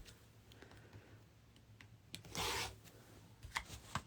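Rotary cutter slicing quilt fabric into 2.5-inch strips, faint scraping and clicking across a cutting mat with one louder rasping cut midway, quiet and close.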